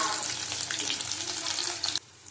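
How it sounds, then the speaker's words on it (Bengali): Whole garam masala fries in hot oil in a pan alongside potatoes for a raw banana and potato curry. A loud, dense crackling sizzle with scattered pops runs close and steady, then cuts off abruptly near the end. "দেখো গোটা গরম মশলা দিয়ে দিলাম ভালো করে ভেজে নেবো"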